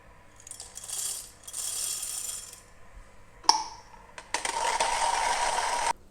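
A Comandante hand grinder set to 28 clicks crunches coffee beans in bursts of gritty, rattling clicks, with a brief pause and a sharp knock before a longer steady grinding stretch.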